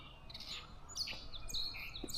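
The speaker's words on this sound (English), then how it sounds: "So it looks like a gray catbird," Gray catbird singing outdoors on a morning walk in Belfast, Maine: a quiet series of varied chirps and squeaky whistled notes, fairly faint over low background noise.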